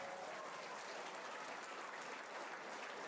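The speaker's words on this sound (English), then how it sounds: "To the applause of the locals" Football stadium crowd applauding a goalkeeper's save during an RC Strasbourg versus Sturm Graz friendly, a steady, even wash of distant clapping and crowd noise filling the whole stretch.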